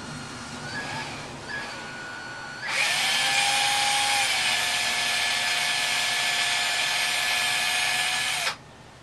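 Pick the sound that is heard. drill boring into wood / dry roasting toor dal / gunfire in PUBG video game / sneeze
drill boring into wood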